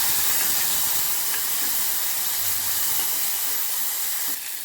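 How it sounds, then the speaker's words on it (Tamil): Mustard seeds, urad dal, cumin and dried red chillies tempering in hot oil for rasam, a loud, dense, continuous hiss and crackle close up, with no voices over it. "எண்ணெய் காஞ்சிருச்சு கடுகு உளுத்தம் பருப்பு போட்டுக்குவோம்"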